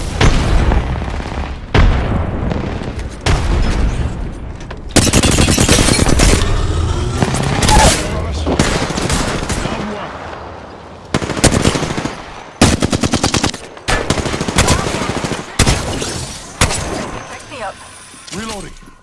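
Loud machine-gun bursts and single gunshots in a shooter video game, coming in repeated choppy volleys with booms between them, and a voice talking now and then.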